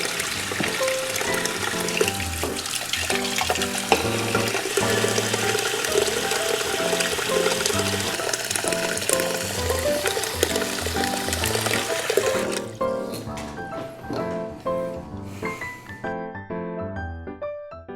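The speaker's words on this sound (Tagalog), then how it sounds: "And fill the pot with water." Water runs steadily into a cooking pot for a pig's head, a continuous splashing fill that fades and thins out toward the end.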